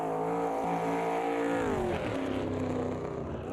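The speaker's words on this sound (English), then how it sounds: "That was nice then on the downshift with a little backfiring" Simulated race car engine in Automobilista 2 holding a strong harmonic drone, then dropping in pitch on a downshift with a brief crackle of backfire, loud and close throughout.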